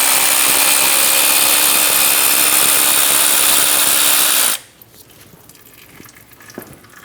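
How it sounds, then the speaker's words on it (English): On a Chevrolet Express 2500, a 10mm socket on a power tool removes two bolts from the engine oil cooler hose assembly. A loud, close, continuous whir runs for about four and a half seconds and then stops abruptly, leaving quiet. "Using a 10mm socket, remove the 2 bolts."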